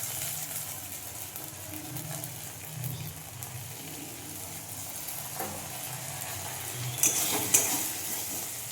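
Ginger paste fried in a pan with spices, a steady low sizzle running throughout, with soft stirring and a couple of brighter clinks of utensil on the pan near the end.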